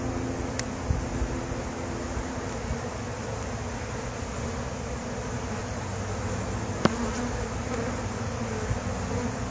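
Honey bees hum around an open hive in a steady, dense drone, with the close buzz of individual bees passing near and a couple of faint sharp clicks.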